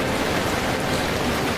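Steady, dense rain pours without pause as a sound effect in an animated Hindi moral story, a close, even wash of falling water with no voices.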